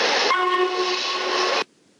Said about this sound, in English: Then came the booming whistle of William.